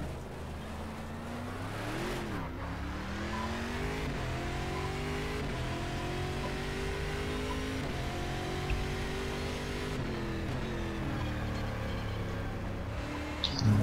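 A stock car engine in the racing game Game Stock Car 2012 revs and shifts continuously, its pitch climbing and dropping through gear changes as the car is driven around the track, loud and close.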